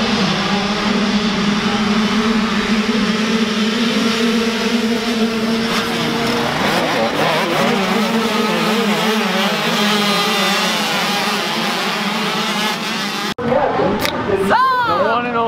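Small 85cc pit bikes racing at the KROC17 event, their engines buzzing and shifting pitch as they rev around the track, loud and continuous, with people talking over the noise and a brief cut near the end.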